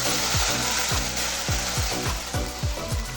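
Hot water poured into a pan of frying vermicelli gives a loud, steady sizzle, with a low scraping sweep recurring roughly every third of a second.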